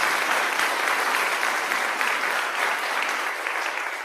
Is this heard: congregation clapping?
yes